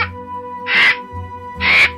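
Crow cawing in an animated children's story, two loud harsh caws about a second apart, close and clear over a faint musical backdrop.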